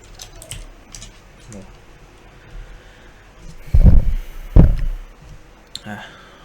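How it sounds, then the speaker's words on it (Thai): Fast typing on a computer keyboard during a Monkey Type speed test gives quick, close key clicks and a couple of heavier thumps, with someone talking over them. "โดยที่ผมจะพิมพ์ให้ทุกท่านดูก่อนนะครับประมาณ 30 วินาทีนะครับ"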